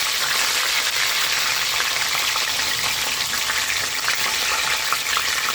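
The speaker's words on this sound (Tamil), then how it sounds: "இப்போ அனலை குறைச்சிட்டு கருவேப்பிலை போட்டுக்குவோம்." A loud, continuous sizzle and spatter of curry leaves frying in hot oil over lowered heat, close and busy, with no speech.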